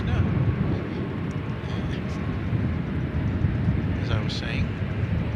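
An MD-11 jet taking off at an airport, a broad low engine roar rumbling steadily at a distance while someone talks over it.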